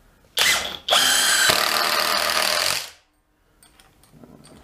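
A cloned Makita-battery impact driver runs at full speed driving a screw, giving a brief whir followed by a loud, dense hammering rattle that lasts about two seconds, stops abruptly, and leaves faint clicks afterward.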